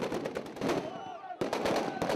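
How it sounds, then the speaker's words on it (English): Anti-aircraft gunfire during an aerial assault in Libya rattles in rapid bursts at moderate distance, pausing briefly before resuming, with a faint whine in between. "2 bombs hit as anti-aircraft gunfire pierced the sky,"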